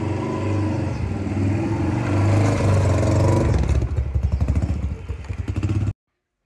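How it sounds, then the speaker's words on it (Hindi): A motorcycle engine idles and revs up, the sound shifting and pulsing as it pulls away before cutting off abruptly. "ये अब मेरी बाइक रेडी है, अब मैं जा रहा हूँ।"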